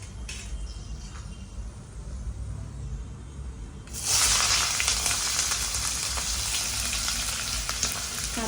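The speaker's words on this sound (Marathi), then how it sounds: "आता आपण याच्यामध्ये कांदा टाकूया" Chopped onion drops into hot oil with fried whole spices for a mutton masala, bursting into a loud, steady sizzle after a few seconds of quiet pan hiss, close and continuous to the end.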